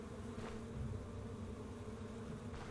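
A Death Stinger insect hive in the game Stoneshard gives off a continuous low, droning buzz at moderate distance, steady throughout with slight swells.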